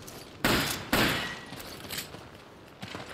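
Gunshots ring out in the Resident Evil 5 video game: two loud blasts close together, then fainter shots and scuffling game effects trailing off.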